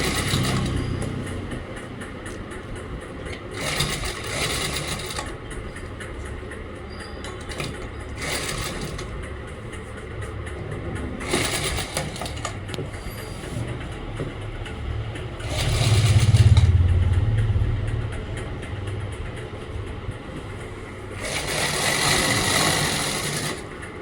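Sewing machine stitching the neckline of a simple kameez, a steady mechanical whirr running continuously with intermittent louder bursts and a low rumble partway through, no talking.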